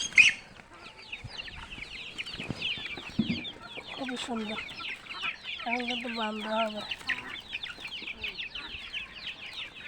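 Chickens and ducks kept in a caged coop at a village home cluck and squawk repeatedly, close by and fairly loud, with a person speaking briefly over the birds.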